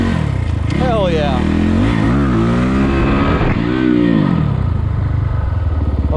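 A 2020 SSR Chinese dirt bike fitted with a Lectron carburetor revs hard, its engine note climbing and falling in repeated sweeps, loud and close, with voices talking over it.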